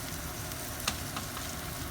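Food warms in a pan over low heat, giving a soft, steady sizzle and crackle throughout with a faint utensil tap, no voices.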